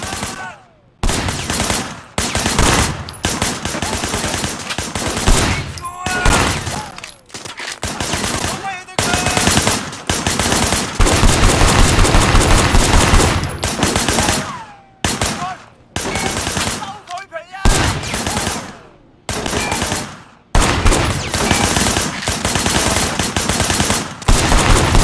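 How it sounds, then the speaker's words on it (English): Sustained gunfire in the Sleeping Dogs action game, loud bursts of automatic fire and rapid shots running nearly nonstop, broken by a few brief gaps, with dense game action throughout. "Shooting at the guys over there."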